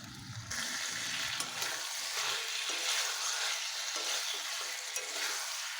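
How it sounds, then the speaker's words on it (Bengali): Fried chicken pieces drop into a hot cooking pot and set off a steady, close hiss of sizzling oil that holds for several seconds after a short thud at the start. "এবার দিয়ে দিচ্ছি ভাজা মাংসটা।"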